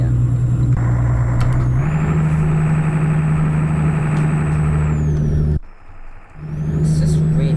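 A Volvo FH12 truck engine in Euro Truck Simulator 2 drones steadily, deep and loud, with a shift in pitch partway through and a brief dip in level near the end. Faint talk may sit under it.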